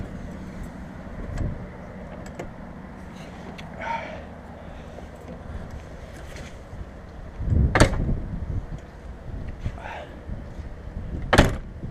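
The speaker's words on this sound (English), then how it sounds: "You have to push it in order to close the door." A cab door on a CAT 962H wheel loader is pushed shut during unloading in Barrie, Ontario, giving two sharp metallic latching thumps, one near eight seconds and another near eleven, over a low steady background hum.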